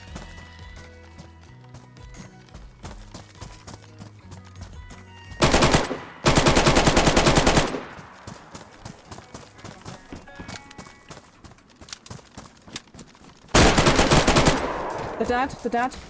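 Automatic gunfire in the video game DayZ from a gun with a slow rate of fire and a 64-round magazine, several loud sustained bursts standing out over quieter game sounds and brief speech.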